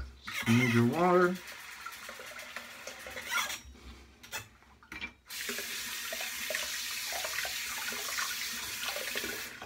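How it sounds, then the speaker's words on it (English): Tap water runs into a sink to wet an HSC shaving brush, a steady close splashing stream that briefly drops away and then resumes strongly. "Add a smidge of water."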